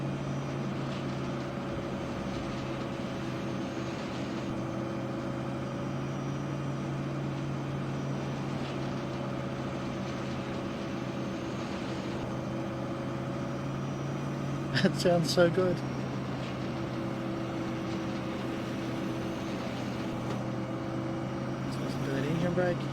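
A heavily modded Battle Truck engine in American Truck Simulator runs steadily throughout, a low droning rumble with a constant tone, while a voice speaks briefly over it and a short click bursts in midway.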